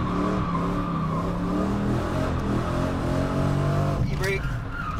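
A stunt car's engine drones loud and steady under throttle, with a rising whine and a brief tire squeal near the end, and a voice faintly audible underneath.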